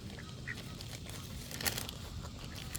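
Mallard ducks being fed outdoors give a few faint, scattered quacks over a low steady background.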